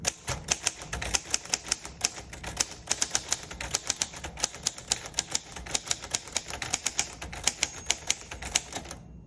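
Typing on a 1948 Royal Quiet Deluxe manual typewriter: a quick, uneven run of crisp key strikes close to the microphone, steady throughout with no voices.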